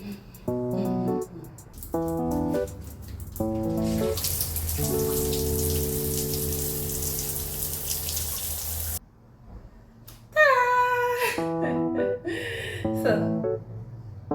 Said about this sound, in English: Shower.